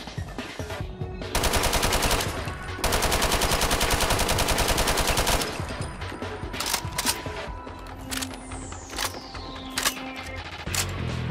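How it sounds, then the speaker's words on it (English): An M249 Squad Automatic Weapon in a Fallout 4 mod fires two long, loud sustained automatic bursts, followed by scattered single shots, clicks and mechanical handling sounds. "M249 Squad Automatic Weapon by Sayahika."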